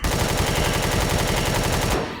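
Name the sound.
gunfire shooting enemies in the video game Empyrion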